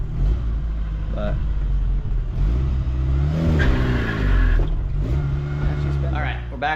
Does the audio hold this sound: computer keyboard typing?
no